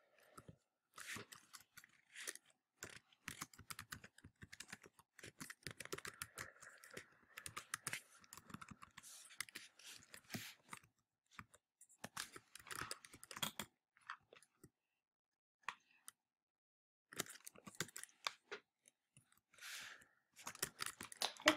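Quiet, close clicking of a computer keyboard typed in irregular bursts with short pauses between runs of keystrokes.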